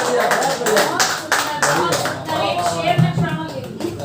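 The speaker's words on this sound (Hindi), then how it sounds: "एक बार पुनः पूरा सदन जोरदार तालियां बजाते दीदी के लिए" An audience at a poetry recitation in a book cafe breaks into sustained, close applause, dense clapping running the whole time with a voice heard over it.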